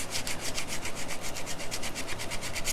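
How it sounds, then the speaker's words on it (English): Sandpaper rubbed over the solder joint of a jewelry ring, a quick, steady back-and-forth scratching of about six strokes per second, close and continuous. "I run a little bit of sandpaper over the top of the joint just to get rid of that flashing"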